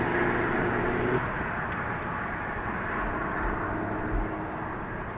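A Ryanair passenger jet bound for Toulouse rolls for takeoff at Dublin Airport, its engines a steady, broad roar held at a fairly even level from a distance, with no voices heard.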